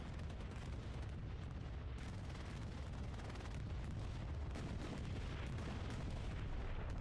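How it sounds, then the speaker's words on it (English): Continuous heavy rumbling explosions from a bombing run on a checkpoint in a multiplayer war video game, a dense and steady roar of blasts with sharper impacts now and then, loud and sustained with no talk. "Another bombing run coming into checkpoint"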